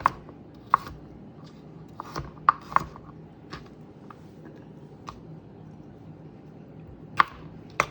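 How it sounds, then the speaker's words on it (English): A knife chops pieces of an unusual vegetable on a cutting board, about a dozen crisp, irregularly spaced cuts, some close together, with short quiet gaps between them. "and turn and chop"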